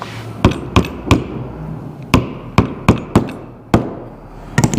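A rubber mallet drives a wedge down while making spurs: about a dozen sharp, hard strikes in uneven bursts, close and loud, with short pauses between groups of blows.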